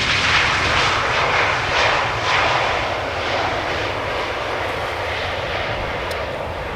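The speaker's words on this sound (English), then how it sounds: "the first airplane to center, also on the glide slope, KLM flight 1186 to Amsterdam" A KLM airliner on final approach at Amsterdam Schiphol Airport, a loud broadband engine roar that rises and slowly fades as the plane passes, with no talking.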